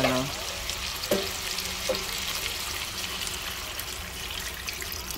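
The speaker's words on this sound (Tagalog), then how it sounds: "yung chicken stock natin kanina, yun ang isasabaw natin" Chicken stock pours into chicken simmering in tomato, a steady sizzle and liquid trickle with a couple of soft stirring knocks near the start, close and continuous.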